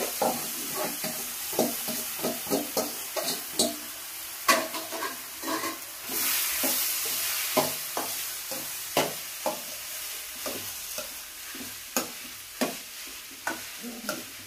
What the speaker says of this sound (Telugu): చింతపులుసు మరిగింది, దీంట్లో మనం రైస్ వేసుకొని కలుపుకోవాలి